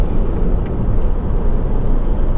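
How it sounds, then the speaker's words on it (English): The Honda FR-V 2.2 i-CDTi diesel engine hums loud and steady from inside the car while under way, with dense low rumble throughout and no talk. "That engine is just so sweet revving, it really is."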